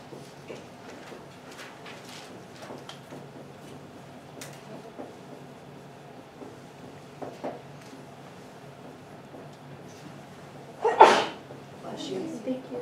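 One sudden sneeze bursts out near the end, loud against a quiet room with faint ticks and shuffling during a lecture.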